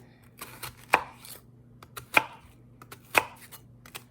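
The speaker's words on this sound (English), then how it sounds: "So now I'm going to slice up onion," Knife rough-chopping an onion on a cutting board: three sharp, distinct chops about a second apart, with lighter knife taps between them, close and clear with no talking.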